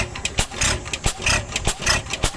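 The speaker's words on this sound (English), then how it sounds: "This is a hit miss engine." An old hit-and-miss engine at an engineering show, running with a loud, near, irregular chuffing of sharp firing pops separated by uneven coasting gaps.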